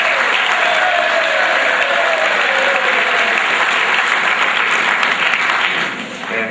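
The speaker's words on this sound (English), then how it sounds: "they deserve a nice round of applause." A school sports-awards crowd gives a cross-country team a loud, sustained round of applause, dense and even throughout before thinning slightly at the very end.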